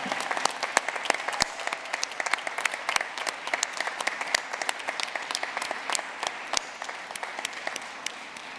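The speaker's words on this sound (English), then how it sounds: "let's give a round of applause to those very important people" Steady applause from a crowd at a graduate commencement ceremony, dense clapping continuing throughout with a few sharper claps standing out, no voices.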